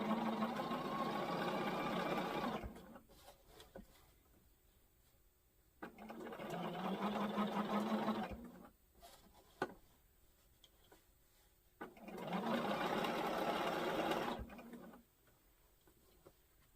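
Sewing machine stitching quilt strips, running in three steady whirring bursts of a few seconds each, separated by quiet pauses with light clicks and handling.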